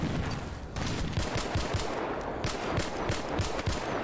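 Gunfire in the video game S.T.A.L.K.E.R. Gamma, a rapid run of punchy shots over a dense, noisy game soundscape, with the reports coming in quick, fairly regular bursts.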